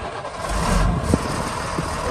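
A 1994 Chevrolet Kodiak C6500 truck with a Caterpillar 3116 diesel engine runs close by with a steady, broad rumble and a slight swell partway through.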